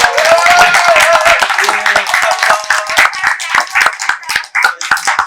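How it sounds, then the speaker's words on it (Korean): Indoor audience in a district office lobby cafe clapping loudly and close for a speaker being honored at a live talk event, rapid dense handclaps over about five seconds that thin toward the end, with a few voices and cheers mixed in. "또 이문정 검사님도 살려내신 김용목 대표님께 다시 한번 박수 소리 한번 해주세요."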